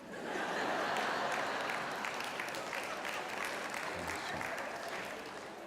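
Church congregation applauding together, a dense, steady wash of clapping that holds at an even level throughout, close and full, with no one speaking over it.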